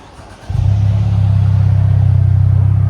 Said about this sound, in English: 2025 Ford Mustang Ecoboost with MBRP cab back system.